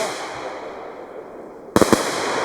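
Cyber World Vortex 2 Tiger firework battery, a few sharp close bangs in quick succession after a quiet stretch of outdoor hiss.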